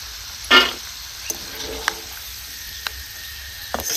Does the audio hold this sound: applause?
no